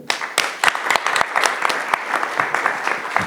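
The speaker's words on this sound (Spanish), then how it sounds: "Y quisiera un aplauso para ustedes." Audience applause fills a conference hall during a panel on cancer institutes and health systems, a dense steady patter of many hands with sharper individual claps popping through, sustained throughout.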